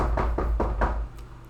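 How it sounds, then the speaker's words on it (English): Four firm knocks on a basement door, evenly spaced about a fifth of a second apart, close and loud, then quiet. "Karma is knocking on that door"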